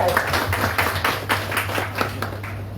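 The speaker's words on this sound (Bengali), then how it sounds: "আমরা এই ক্লোজের জন্য একটা হাততালি দেবো সবাই।" An audience applauding at a closing-day event, a room full of scattered handclaps in an uneven rhythm that carries on throughout at moderate loudness.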